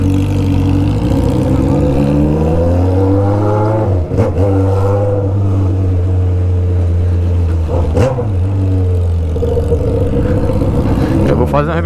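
Honda Hornet motorcycle with an Atalla exhaust in worn condition, engine running loud and close with rising and falling revs and sharp throttle blips, while someone talks over it.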